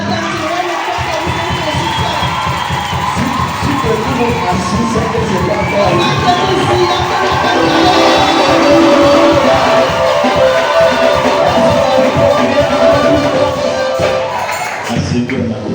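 A church congregation cheers and shouts in acclamation, a loud, continuous roar of voices with whoops and children's shouts, while a voice speaks over the crowd.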